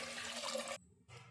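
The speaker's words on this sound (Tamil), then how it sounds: "தேவையான அளவுக்கு தண்ணி சேர்த்துக்கலாம்." Water pours steadily into a cooking pot while baby food is prepared, a rushing splash that cuts off briefly and then resumes more softly.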